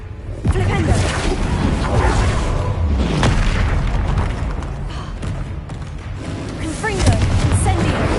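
The Flipendo spell is cast in the Hogwarts Legacy video game, with loud booming magical impacts and thuds layered in dense game audio. A voice is also present.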